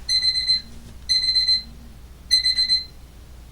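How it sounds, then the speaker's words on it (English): A tabletop alarm clock going off indoors in three loud bursts of high electronic beeping, each about half a second long, separated by short pauses. "I forgot to turn the alarm off."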